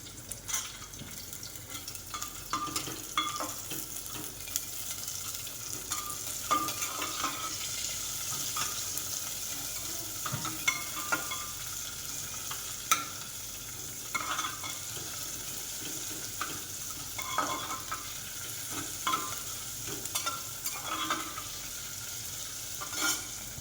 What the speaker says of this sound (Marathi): आता ह्याच्यामध्ये टाकते मी कांदा आणि शेंगदाणे